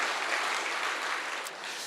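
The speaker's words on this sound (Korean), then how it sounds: "하나님께 영광의 박수." Church congregation clapping during a Sunday worship service, a dense, even wash of applause from a large room, fairly soft and sustained for just under two seconds.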